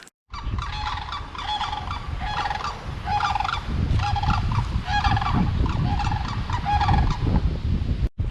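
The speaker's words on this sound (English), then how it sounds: "Sandhill Cranes make an awful lot of noise." Loud, rolling bugling calls of sandhill cranes repeat in a steady rhythm, close by, over a low rumbling background, at Crews Lake Wilderness Park.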